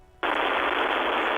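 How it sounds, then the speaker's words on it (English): Rapid automatic gunfire bursts in suddenly in the video game Disco Elysium, a loud, steady stream of shots holding at full strength after near silence. "Gunfire! Shots fired!"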